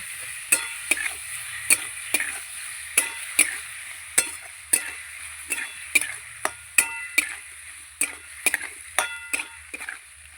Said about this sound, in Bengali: টমেটো আর মশলা কষিয়ে নেব